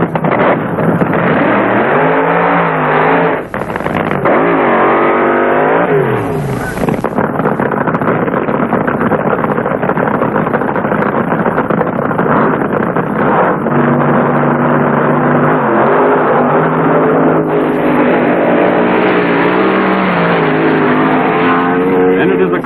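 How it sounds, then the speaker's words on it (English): Rear-engine and front-engine dragsters from early-1970s drag racing roar down the strip, a loud, sustained engine howl with rising and falling pitch sweeps and heavy wind buffeting, with a commentator talking over it. "John the Snake Prudhomme and his rear engine rail draws John Weavy with a front engine machine."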